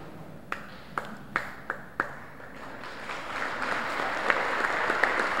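An audience at an all-star sports awards ceremony applauds standing athletes: a handful of isolated sharp claps at first, then swelling into steady, dense applause from a crowd, moderately loud and sustained.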